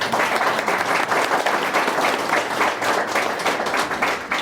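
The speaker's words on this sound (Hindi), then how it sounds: "डॉक्टर साहब के लिए एक बार जोरदार ताली" An audience at a grand motivational seminar breaks into loud, dense applause, many hands clapping steadily and close for several seconds without a pause.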